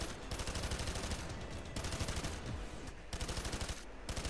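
Rapid automatic gunfire at riot shields in the video game Payday 2, a steady dense stream of shots with a brief pause near the end before another burst, loud and close.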